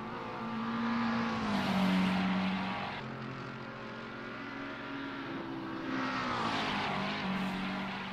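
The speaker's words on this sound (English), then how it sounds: "loud and rowdy McLaren" A loud, rowdy McLaren race car engine roars in a sim racing game at Bathurst, revving up and down through gear changes in a steady, close drone that swells and dips twice.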